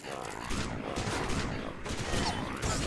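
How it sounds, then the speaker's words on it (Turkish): Dense, continuous bursts of video game mines exploding with gunfire-like blasts, loud and crowded, with faint talk mixed underneath. "Tamam patladı mayınlar"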